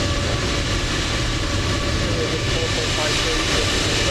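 Steady jet engine roar of an airliner at Edinburgh airport in the flight simulator MSFS2020, a constant broadband rumble and hiss holding loud throughout the short stretch with no distinct events.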